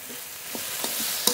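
Green chili paste being stirred into taro curry in a frying pan, a soft continuous sizzle broken by a few scraping strokes of the spoon and a sharp clink near the end.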